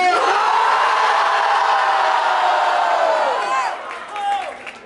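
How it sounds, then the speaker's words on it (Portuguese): A loud crowd roars, cheers and shouts together at a rap battle event, a dense sustained wall of noise that fades toward the end, with a few whoops breaking through. "barulho pra quem gostou das rimas de Lino!"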